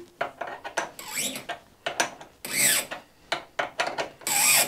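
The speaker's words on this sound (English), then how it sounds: "either a tap wrench handle or a spanner on there" Tap driven with a tap wrench on a lathe, a run of sharp metallic clicks, scrapes and ratcheting bursts in irregular rhythm, close and fairly loud with no voices.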